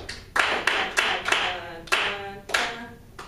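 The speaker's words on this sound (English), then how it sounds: "let's clap it really quick" A group in a music class claps a rhythm together, sharp, close claps in an uneven pattern of about ten beats, with a short ring between hits.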